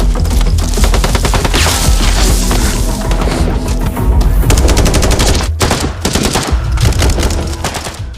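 Heavy, sustained gunfire in a film battle rattles in rapid bursts with crashes and booms, loud and close, like a chaotic battle scene.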